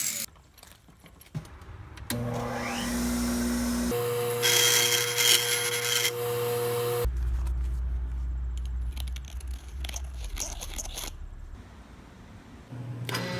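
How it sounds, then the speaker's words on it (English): Steel stock is cut in a home workshop, with sustained grinding and whining from the cutting tool in separate bursts, scraping and clattering of metal between cuts, and sharp knocks at the start. "Start by cutting lots of steel."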